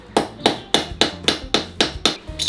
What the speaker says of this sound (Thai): ผมก็จะเอาน็อตครับเสียบเข้าไปแล้วก็ตอกลงไปเลยฮะ